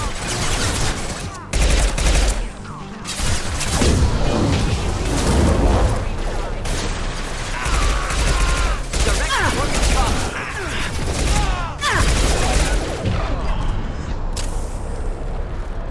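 Rapid bursts of gunfire from Krogan enemies in a Mass Effect 2 combat sequence, loud sustained volleys with booms and mechanical clatter running through most of the stretch.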